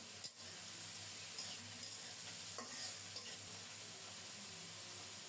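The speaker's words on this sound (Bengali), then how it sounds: "এখন বেগুন দিয়ে দেব।" Eggplant frying in a pan with fish and turmeric, a steady broadband sizzle with stirring scrapes and a brief clatter near the start, continuous and close with no talking.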